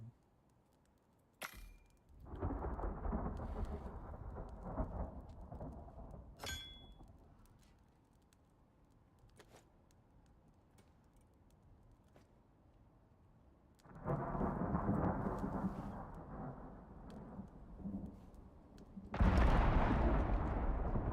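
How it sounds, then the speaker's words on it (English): A thunderstorm rolls through a game world in Icarus: sharp lightning cracks, then rumbling thunder in long, loud surges separated by quieter stretches of steady rain. "Another lightning storm."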